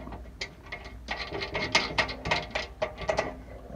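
A ratchet wrench tightens a bolt on an aftermarket aluminum skid plate under a Subaru Outback, giving rapid bursts of close, loud clicking in uneven strokes.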